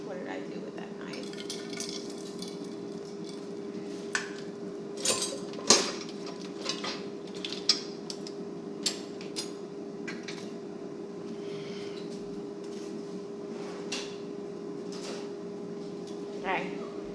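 Metal cutlery clatters and clinks in a kitchen drawer while someone searches for a knife, with scattered sharp jangles and light rattling over a steady background hum and a little quiet talk.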